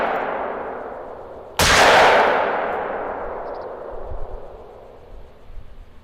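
One loud hunting rifle shot in theHunter, fired at Canadian geese, with a sharp crack followed by a long rolling echo that fades over several seconds against quiet outdoor ambience.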